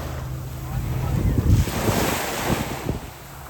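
Ocean surf rolls in on a Kuwait beach, a close wash of waves swelling and fading over a few seconds, mixed with wind rumble on the microphone.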